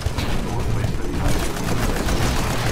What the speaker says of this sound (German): Ich schieße ihn jetzt mit der Shotgun kaputt.